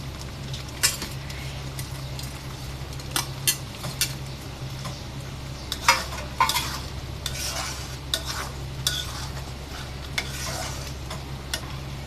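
Masala already cooked down with milk is stirred in a pan with fried eggs and crisp fried onions for egg korma. A spoon scrapes and clinks steadily over a soft sizzle and a low steady hum, with no talking.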